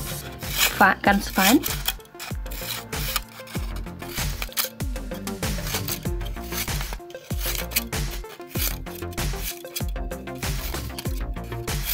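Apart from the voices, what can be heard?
cutting into a piece of aluminium foil for straws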